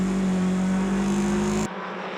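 Race cars at Jyllandsringen in a Nordic 4 Championship final race: a loud, close, sustained engine drone holding steady pitch that cuts off abruptly near the end.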